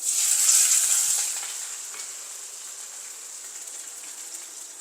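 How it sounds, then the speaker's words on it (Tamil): Garlic, green chilli and onion frying in hot oil with mustard seeds, fenugreek and curry leaves for an egg curry, a steady bright hiss, louder at first then settling into a continuous fainter sizzle, with no talk. "இப்போ பூண்டு பச்சை மிளகாய் வெங்காயம் இதெல்லாம் சேர்க்கலாம்"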